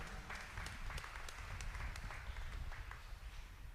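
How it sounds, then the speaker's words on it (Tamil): Audience applause at a sermon, clapping to thank the Lord: faint, steady, dense clapping from a crowd that continues evenly throughout with no voices. "கைத்தட்டி அந்த ஆண்டவருக்கு ஒரு நன்றி சொல்லலாமா?"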